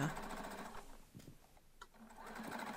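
A domestic sewing machine stitches a seam through layered fabric, a quiet, fast mechanical whir that pauses briefly in the middle and then resumes.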